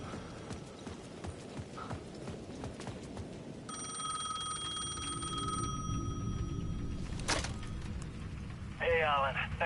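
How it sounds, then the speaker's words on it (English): In Alan Wake 2, a payphone at the edge of a plaza rings with a steady electronic trill over rhythmic footsteps. Later a few sharp chirping tones cut through near the end. "The payphone at the edge of the plaza was ringing again"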